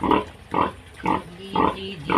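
Pigs grunting close by, five short rhythmic bursts evenly spaced about half a second apart, with no talking.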